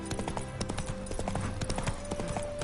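Roach, the horse in The Witcher 3: Wild Hunt, gallops in a fast, steady clip-clop of hooves, close and continuous, over a bed of game ambience and music.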